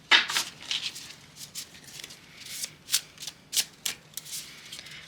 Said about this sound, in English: Shuffle for a while